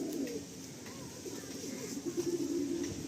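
Madrasi pigeons cooing close by, low soft throaty coos that repeat in a rolling rhythm, with a denser burst of cooing near the end over a quiet background.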